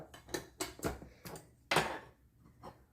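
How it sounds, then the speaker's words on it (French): Tea is spooned into the basket of a Riviera-et-bar Cha Dao Expert automatic teapot: a series of close, sharp clinks and scrapes of a spoon against the basket, spaced irregularly with brief quiet gaps. "je vais mettre 2 grosses cuillères à thé"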